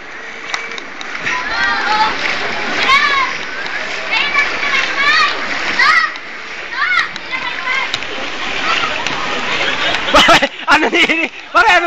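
Floodwater splashing and rushing in at a subdivision in Montalban, Rizal, a steady wet wash with repeated splashes, under frequent talk from several people including a child.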